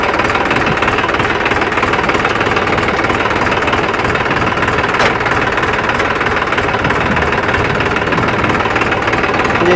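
A John Deere tractor engine runs steadily in four-wheel-drive mode, a loud, close, continuous diesel drone with a rough knocking texture that holds throughout without a pause.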